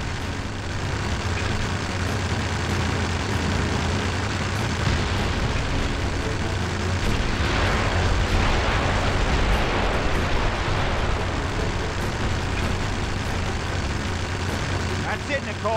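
Aircraft engines roar steadily in a James Bond 007: Blood Stone action sequence, a loud continuous drone with a rumbling swell midway and bursts of impact noise layered over it.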